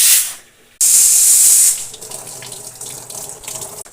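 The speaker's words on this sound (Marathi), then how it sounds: "तर आम्ही आता फेस पण वॉश करणार आहे." Tap water runs into a sink while a child's face is washed, a loud close rush that cuts out briefly, then gushes again and settles into a softer splashing flow.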